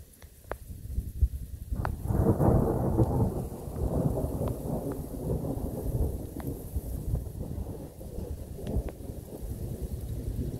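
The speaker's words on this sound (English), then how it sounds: "This might be the last thunderstorm in Ohio for this 2022 season." Thunderstorm on a cold November night in Ohio, with steady rain hissing and a long, rolling rumble of thunder building and fading, plus scattered sharp drops nearby.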